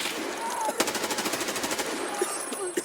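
M4 rifle on full auto in Escape from Tarkov, a rapid burst of evenly spaced shots fired in quick succession, followed by a few scattered single reports, fairly quiet in the mix.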